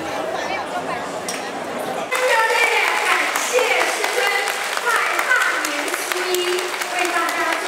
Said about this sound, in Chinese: 掌声热烈一点